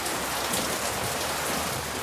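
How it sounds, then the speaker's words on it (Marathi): Heavy monsoon rain falls steadily outdoors near a fort, a dense, even hiss of drops on surfaces that holds at moderate level throughout with no voices. "नाही बट बऱ्यापैकी पाऊस आहे."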